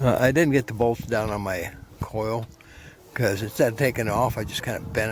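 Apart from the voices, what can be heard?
None of the usual background noises is heard.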